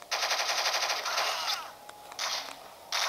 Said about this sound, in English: M14 with scope.